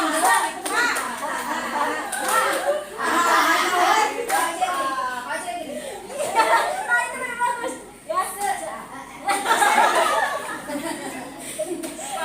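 Group of children doing a rhythmic spirit clap in a classroom-style session, claps and chuckles mixed with children's chatter and a leader's voice throughout.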